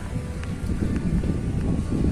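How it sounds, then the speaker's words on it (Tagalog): Steady wind buffets the microphone near the sea at Marina Lusail, a constant low rumble with slight gusting and no talk. "Presko dito, nahangin."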